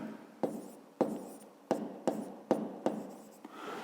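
Pen or pencil working through a fifth-grade geometry exercise on paper, with regular sharp strokes and short scratching, up close and faint.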